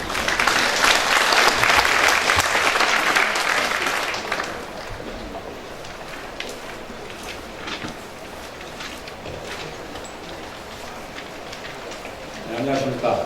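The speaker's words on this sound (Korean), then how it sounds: "큰 박수로 맞이해주시기 바랍니다" Audience at an education officials' meeting clapping loudly to welcome a speaker; dense applause for about four seconds, then fading into softer scattered claps and room noise, with a voice starting near the end.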